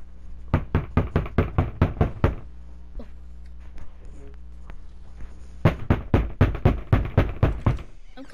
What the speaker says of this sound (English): Knock at her door.